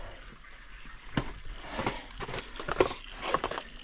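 Faint trickling and splashing of spring water flowing out of pipes at a cave in Arkansas, with soft irregular drips and gurgles close by.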